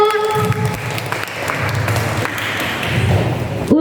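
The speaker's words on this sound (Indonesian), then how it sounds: "Oke, tepuk tangan dulu." Steady applause from a crowd gathered for an HKBP Citra Raya Sunday school Easter service, a dense patter of clapping holding at even strength for several seconds with a faint ping near the end.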